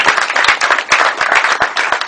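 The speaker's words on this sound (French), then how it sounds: "Si on peut les applaudir." Audience applause for the participants at an entrepreneurship certificate ceremony, a dense, lively burst of many hands clapping close by, steady and loud throughout with no talk.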